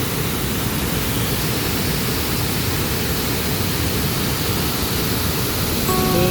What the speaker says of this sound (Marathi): कसा वाटला तुम्हाला आमचा मिनी धबधबा नक्की सांगा आम्हाला.